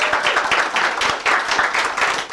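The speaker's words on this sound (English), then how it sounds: "Give him a round of applause." An audience at a coaching event applauds steadily, a dense wash of many hands clapping at moderate loudness with no talking over it.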